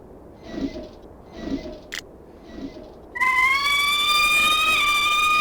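A few soft muffled pulses and a sharp click, then a loud electronic security alarm in the video game Lighthouse - The Dark Being blares as a steady, slightly rising wail that holds to the end.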